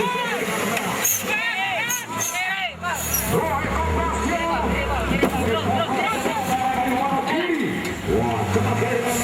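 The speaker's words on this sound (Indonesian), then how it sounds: "sekarang ini kendaraannya ini namanya ditempeli mesin Cherokee" A 4x4 off-road vehicle fitted with a Cherokee engine at an off-road event in Semanding, Tuban, revving and droning continuously at close range amid crowd babble and other vehicle noise.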